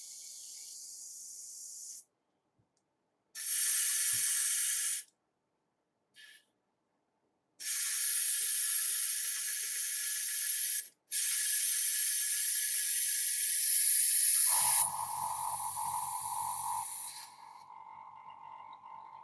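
Airbrush being flushed with alcohol and then airbrush cleaner, giving several bursts of loud, hissing spray, each a few seconds long with pauses between, the last followed by a lower, softer whir.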